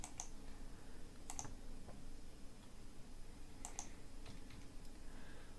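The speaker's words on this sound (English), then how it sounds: "I'm typing WA in my keyboard" Sparse, light keystrokes on a computer keyboard clack in small clusters while someone works with keyboard shortcuts, close but quiet over a steady low room hum.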